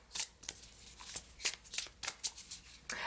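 Tarot cards are shuffled by hand for a reading, a run of crisp riffling bursts and soft slaps in quick irregular succession, close and clear.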